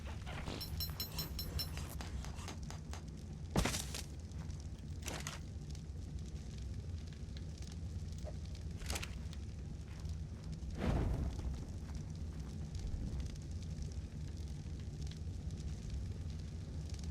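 Campfire crackling in the game Ark Survival Evolved, Scorched Earth, a steady low roar with occasional sharp pops and snaps, alongside faint creature whimpers and soft interface tones.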